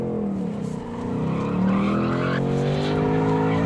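A 2019 Ford Mustang Bullitt spins its tires while rolling, its loud V8 roar rising in pitch over a steady tire squeal that stays close and continuous throughout.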